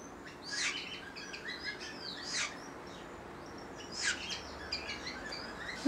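A pukeko (Australasian swamphen) chirps and tweets in a few bright bursts with pauses between, fairly close, over a quiet background hiss.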